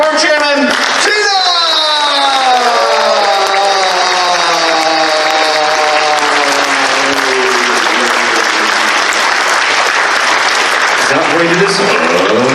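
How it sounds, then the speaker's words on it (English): Sustained, loud applause from a large convention audience at a furry convention's closing ceremony, with a whoop or cheer early on and the clapping continuing evenly throughout. "let's give a big round of applause for our board chairman, Tina!"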